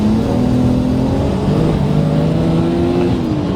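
A BMW with a B58 engine on upgraded B58 ignition coils pulls hard toward redline, its steady engine note rising continuously and loud throughout, with no talk.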